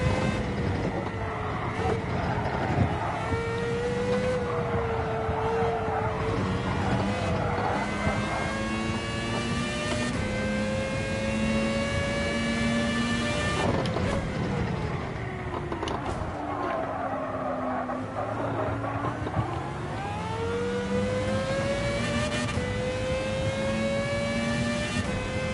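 Car engine in Gran Turismo 7 revving and accelerating through the gears, pitch sweeping upward in repeated rising runs with brief drops between shifts, steady and prominent throughout.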